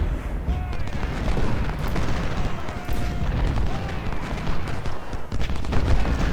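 Sniper fire in Ultimate General: Civil War at the Battle of Fredericksburg, a dense continuous crackle of musket shots and distant booms rolling through a noisy battlefield, steady and loud throughout.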